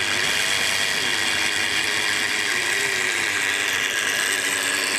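A blue Tri-ang Coronation Class model locomotive runs while pulling three coaches, giving a continuous whirring motor hum with a steady mechanical buzz, close and even throughout.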